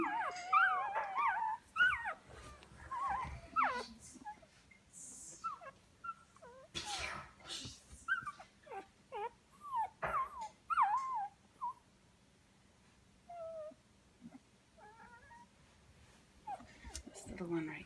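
Several small Goldendoodle puppies whimper and whine in a puppy box set in a living room, with short high cries coming in scattered bursts close by, while a child plays in the background and people talk.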